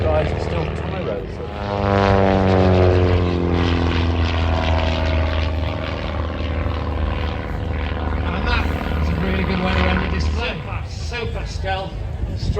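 An F-35 stealth fighter roars past at an airshow, a loud sweeping engine tone that rises and falls in pitch as it passes and stays strong throughout.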